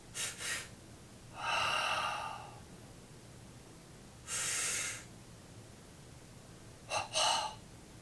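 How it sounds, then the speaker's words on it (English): Short deliberate breaths in uneven sets: a quick double breath, a longer breath, a single steady one and another quick pair, close and clear over quiet room hiss. "I do alternate breaths of uneven numbers, like this."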